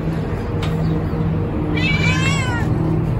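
A single rescue cat at a shelter meows loudly and close by, a drawn-out wavering call rising over a constant background hum.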